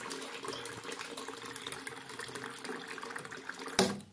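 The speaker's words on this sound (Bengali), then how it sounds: "চা বসাবো, তার জন্য জল নিচ্ছি" Water being drawn by hand from an outdoor source in cold weather for making tea, a steady close gushing pour ending with a sharp splash or knock.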